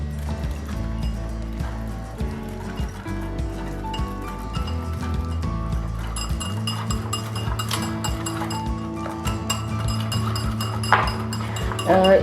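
A whisk or spoon clinks against a bowl while crepe batter with a pinch of salt and half a cup of milk is mixed, steady rhythmic tapping and scraping, close, with someone speaking over it.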